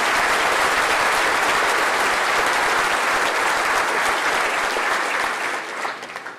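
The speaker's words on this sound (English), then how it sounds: "Let's give them a round of applause." A large audience applauds at a government event with the state governor and legislative leaders present, dense sustained clapping at full strength that holds steady and then starts to thin and fade in the last second.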